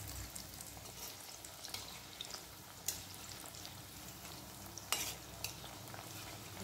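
Kothimbir vadi, steamed coriander-and-gram-flour fritters, fry quietly in shallow oil with a soft, steady sizzle, broken by a few light scrapes and taps of a utensil in the pan.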